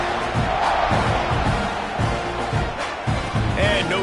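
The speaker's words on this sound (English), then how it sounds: "this crowd is buzzing after that last score" A large stadium crowd at a football game murmurs and roars in a steady, dense wash, with scattered shouts rising out of the constant din and no speech in the foreground.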